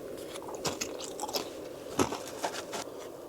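Someone chews bite-size tortilla chip rounds inside a shelter while winter camping in cold rain, giving faint, close crunches and bites at an irregular rhythm.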